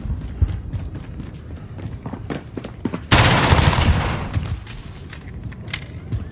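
Rapid bursts of MP7 submachine gun fire in Modern Warfare, sharp clattering shots in quick strings, with one louder, denser burst near the middle amid other gunfire.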